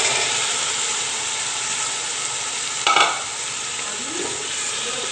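Water and boiled chickpeas added to a pan of browned onion, garlic and ginger set off a loud, steady sizzle and hiss that swells briefly midway, with no talking.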